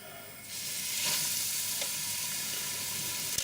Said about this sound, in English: fish cakes into the oil.